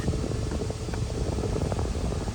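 A newly replaced A/C blower motor in a Nissan Xterra pushes air through the dashboard vents, a steady, even rushing hum of fan noise with no talking.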